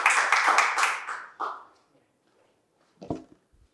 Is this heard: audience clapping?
yes